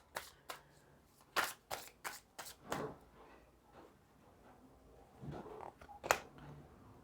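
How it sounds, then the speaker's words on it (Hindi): Tarot cards are flipped and shuffled up close in a quiet room: a series of crisp slaps and riffling snaps, some clustered and some spaced apart, with soft handling rustle between them. "अब यहाँ भी बहुत सारे कार्ड्स पलटे हैं।"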